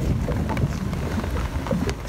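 Rain falls during a winter flathead fishing outing on Lake Macquarie, a steady dense patter with faint wind buffeting, and no voices.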